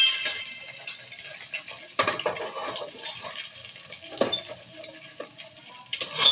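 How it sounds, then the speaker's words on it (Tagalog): Egg being stirred and mixed in an oiled frying pan, with scraping utensil strokes and a light sizzle in irregular bursts, close and fairly soft. "Maglalagay na nga tayo ng itlog at i-mix-mix lang natin yan"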